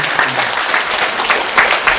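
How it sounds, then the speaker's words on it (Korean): Church congregation claps together for birthdays, a dense, lively burst of applause filling the room at steady loudness from start to finish. "박수로 축하하겠습니다"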